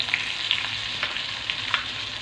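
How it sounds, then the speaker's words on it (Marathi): Green chilies frying in oil in a pan, a loud continuous sizzle with small crackles and a few stirring scrapes throughout. "अशी मिरची भाजून घ्यायची आहे"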